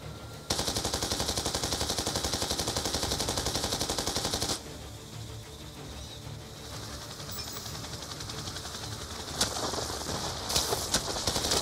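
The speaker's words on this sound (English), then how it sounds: "Convoy taking effective RPG fire from the mountain." Rapid automatic gunfire from a Black Ops 2 Strike Force convoy battle: a loud, steady burst runs for several seconds, then continued battle noise and scattered sharp shots.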